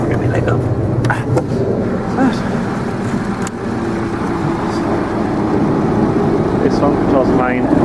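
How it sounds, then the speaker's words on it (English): A Zetor 7245 tractor runs steadily, powering a cherry picker's main hydraulic lifting ram, with a loud continuous engine drone and hydraulic whine throughout, and someone speaking over the noise. "This one controls the main lifting ram, which obviously is very slow."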